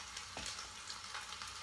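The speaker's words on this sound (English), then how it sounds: "Oh, you can hear the nice sizzle." Brisket browns in an Instant Pot, giving a quiet, steady crackling sizzle of hot fat and meat with a brief soft knock partway through.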